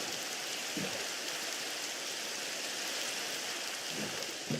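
Steady rain in Minecraft hisses evenly throughout, a continuous dense wash of falling water with no pauses.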